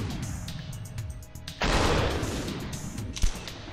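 A gunshot and kill effect from the video game Superhot lands as a sudden broadband burst that lingers and slowly fades, with a smaller thump shortly after.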